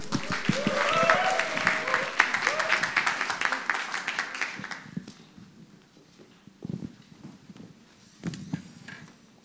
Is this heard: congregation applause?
yes